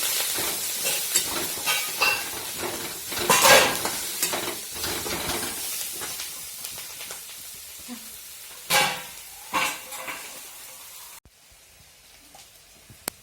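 Kanda poha being stirred and sautéed in a pan after coriander and curry leaves go in, with steady close sizzling and repeated scraping stir strokes, a few louder clatters, then a quieter stretch near the end.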